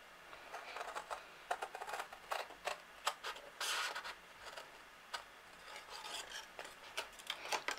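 Cardstock box flap being cut, a series of short crisp snips and rasping scrapes in irregular rhythm, close and quiet with no talking.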